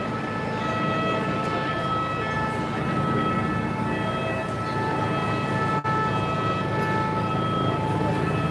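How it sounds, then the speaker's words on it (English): A steady, loud wailing ambulance siren drones continuously over a busy outdoor background in Paris after an explosion, with no break in the tone. "there's another ambulance being rushed out of here"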